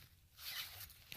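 A zipper with a little heart pull being drawn along a bling pouch, a quick close rasping zip rising in the middle of the brief, quiet moment, with no talk over it.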